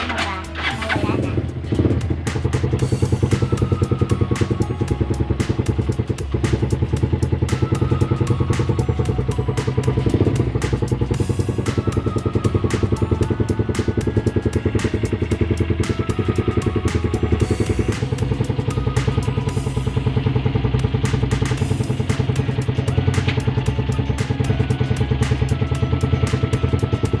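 A SYM Flash 150 motor scooter engine runs steadily nearby after starting up following a wash, with a constant chugging hum and occasional light clatter.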